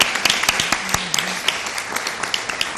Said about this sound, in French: On va l'applaudir pendant qu'elle regagne le coulisses de cette émission